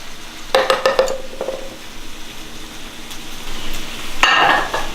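Soft cooked yams are scooped into a food processor with a few clattering utensil scrapes and knocks, a quiet pause, then a longer wet scrape at the end.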